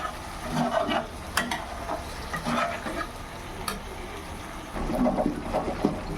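Chili chicken being stirred in a pan, with bursts of scraping and sizzling at irregular intervals over a low, steady frying hiss, close by and with no voices.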